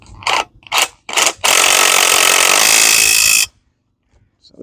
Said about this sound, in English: Just absolutely no tension on the spring right now until I crank it down.